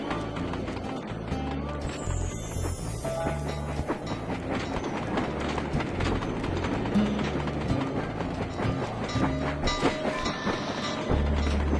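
A moving train in the Sly Cooper 2 video game, a continuous loud rhythmic clatter of wheels on track with dense rolling rumble, sustained throughout and joined by a deeper low drone at the end.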